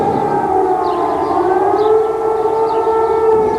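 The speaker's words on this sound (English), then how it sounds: "The wail of sirens and a shower of anti-aircraft fire bursting into the night sky heralded the second successive night of attacks on the Iraqi capital." Air raid sirens wail over Baghdad during a night bombing, a loud, sustained rising and falling tone with overlapping sirens and no talk.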